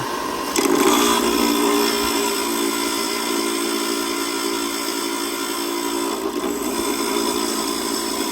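A power tool grinds steadily on the gears of a differential for a Traction Concepts limited slip conversion on a boosted Dodge Charger, working outdoors with a continuous high whine that starts abruptly and holds.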